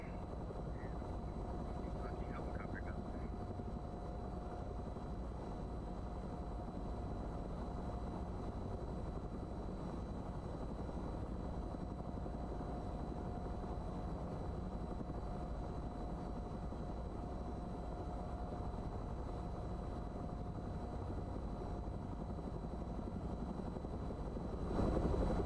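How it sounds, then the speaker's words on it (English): A helicopter flies overhead, a continuous broad rotor and engine rumble holding steady and fairly loud throughout, without clear approach or fade. "Helicopter goes down."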